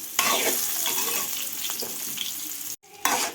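Large pieces of bitter gourd frying in oil, a close, steady sizzle with a few stirring scrapes, briefly interrupted by a short gap before the sizzling returns.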